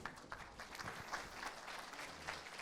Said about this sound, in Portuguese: a quem nós saudamos com uma salva de palmas